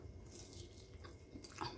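Crisp bites into a freshly fried chicken empanada, a few close crunchy bites and chewing with a brighter crackle near the end, no talking.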